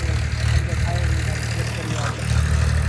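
A farm tractor engine runs with a steady, close low drone that holds without a break, while a voice talks over it.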